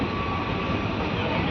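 A Macherla–Guntur passenger train rolls out of Reddigudem station, heard from on board as a steady, fairly loud rumble and rushing noise with a faint sustained whine and no clear speech.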